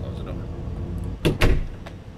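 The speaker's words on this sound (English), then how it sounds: "Close the door." A door in Fears to Fathom: The Carson House shuts with a short, sharp knock and a second, louder thud following closely, set against a quiet indoor hum.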